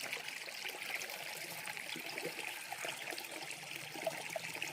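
A small stream of water flows steadily nearby, a continuous soft trickle and splash with no other sounds over it.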